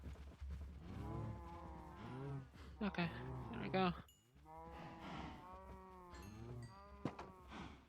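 Cows lowing in the game Minecraft, several long moos in a row near a farm pen, with someone talking briefly over them.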